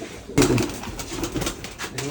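Green pigeons coo softly for a couple of seconds at a pigeon fair in Bogura, Bangladesh, a brief close murmur after a sudden start.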